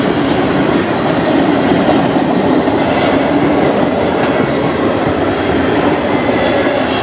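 CN freight train passing at night in Sarnia, Ontario, a steady loud rumble and rhythmic wheel clatter of rail cars rolling by close, with faint squeals now and then.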